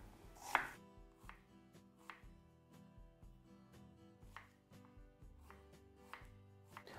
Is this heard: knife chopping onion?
yes